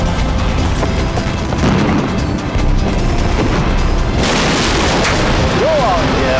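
Four colossal chimneys brought down together by explosive demolition, heard as a dense, sustained roaring rumble with booming bursts throughout and a fresh surge of crashing noise near the end, with voices calling out over it.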